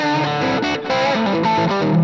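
Electric guitar runs through a clean amp channel with a boost and a tape echo. The chords are thick and sustained, with repeats trailing behind them, and the guitar plays loud and alone.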